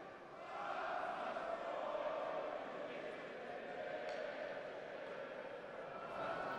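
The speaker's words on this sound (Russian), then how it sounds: "А вот и болельщики поют." Ice hockey fans sing together inside the Khimik ice arena, a broad distant choral crowd sound sustained throughout with steady loudness.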